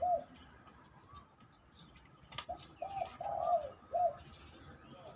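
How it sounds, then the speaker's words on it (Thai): A karam-na bird, a Thai songbird, calls in a series of short, mellow cooing phrases at moderate distance. Faint background noise runs underneath. "คารมหนาครับคารมหนาเลยครับพี่น้องตัวตัวนี้"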